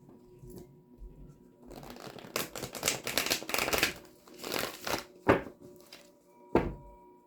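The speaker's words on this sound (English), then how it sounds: "Get you some good shuffles in for Pisces." A Hoodoo Tarot deck is shuffled by hand at close range, with bursts of riffling card noise followed by a few sharp taps and thumps as the deck is squared, fairly quiet and without talk.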